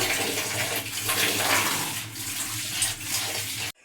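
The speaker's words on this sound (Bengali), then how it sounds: "এখন আমি দুটো ভালোভাবে ধুয়ে নেব বন্ধুরা আমি এখন ভালোভাবে ধুয়ে নিচ্ছি" Running tap water pours steadily while banana stem pieces and red lentils are rinsed, a continuous close splashing wash with no voices, stopping abruptly at the end.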